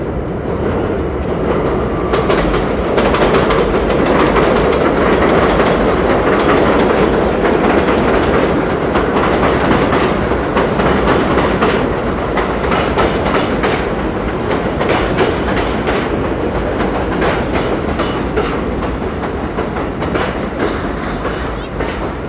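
A subway train in New York passes close by, a loud, sustained roar of wheels and rattling carriages with rhythmic clicking over the rail joints, fading slightly near the end.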